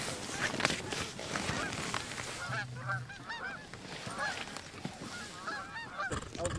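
Geese honk repeatedly in a loose, overlapping chorus during an early-season goose hunt from layout blinds in a field, with quiet talk from hunters mixed in.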